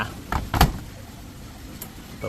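Closing the door of an LG 9 kg front-load washing machine fitted with a coin box makes a couple of close, dull thumps, then faint machine noise and a soft click.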